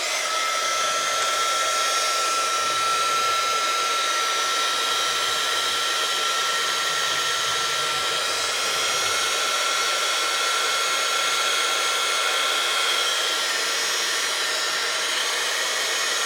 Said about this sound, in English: now we're going to use the heat gun